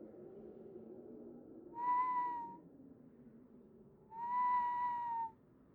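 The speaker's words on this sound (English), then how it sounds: "the whistle came again" Two long, steady whistled tones in dark woods at night, each lasting under a second, separated by a pause over a quiet low rumble of background ambience.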